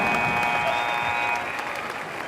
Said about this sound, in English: Round of applause for Stefan from Round Rock.